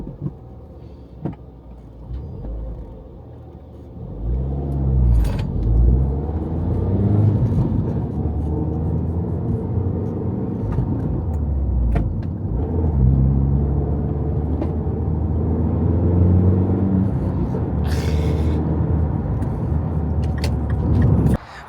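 Mini Cooper S engine and exhaust while driving near traffic lights, a steady low rumble that swells and settles through gear changes, with faint clicks and rattles inside the cabin and no talking.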